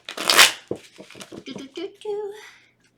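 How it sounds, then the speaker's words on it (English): A burst of tarot card shuffling riffles briefly at the start, followed by a person speaking close to the microphone. "I'm going to shuffle the cards 3 times in a row"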